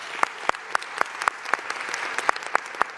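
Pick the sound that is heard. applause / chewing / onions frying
applause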